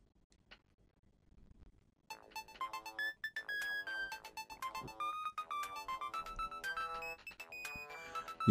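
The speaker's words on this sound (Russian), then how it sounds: "Я проснулся от звонка на мой мобильник." Mobile phone ringtone in a video game, a bright melodic ring that starts after a quiet opening and repeats steadily for several seconds, fairly loud with no talk.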